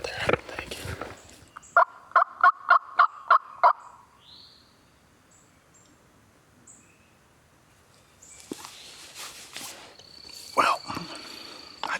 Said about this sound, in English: Well, I just heard them. They're going towards those other gobblers right now.